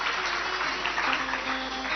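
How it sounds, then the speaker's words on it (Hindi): Steady, dense applause from a large crowd at a religious discourse gathering, a continuous wash of hand claps with no gaps and a faint tonal hum running under it. "सुंदर तालियां बजाएं इनके लिए."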